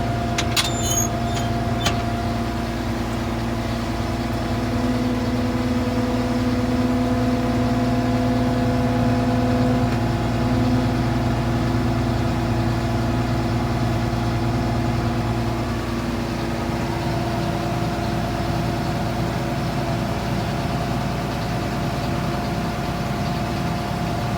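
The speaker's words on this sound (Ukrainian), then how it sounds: "Даємо газу, щоб піднялась, закачало гідросистему." A John Deere 2264 combine's engine runs steadily at raised revs to pump up the hydraulics, a loud continuous drone with a tonal whine that settles to a slightly different pitch partway through.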